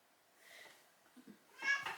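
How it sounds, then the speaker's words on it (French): A house cat meows indoors, two soft, drawn-out mews with a quieter one before and a louder, closer one near the end, faint and otherwise quiet surroundings. "Donc Freya, le chat un peu idiot, voilà, c'est elle qui miaule"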